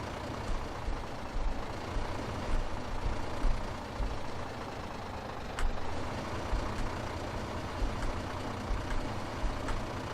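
Truck in Farming Simulator 15 driving steadily along pavement with a continuous broadband engine and road rumble, fairly quiet and even, with no talking.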